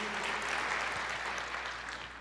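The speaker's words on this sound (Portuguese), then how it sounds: "Você pode aplaudir ao Senhor." A church congregation applauds, a steady, fairly quiet wash of clapping lasting a couple of seconds with no voices over it.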